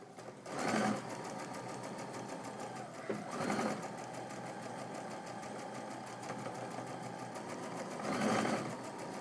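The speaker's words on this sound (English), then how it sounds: "I have my sewing machine set so that it will sew a scant 1/4 inch" Sewing machine stitching a scant quarter-inch seam on quilt fabric for flying geese units, a steady fast mechanical whir with a few slightly louder surges, heard alone and close.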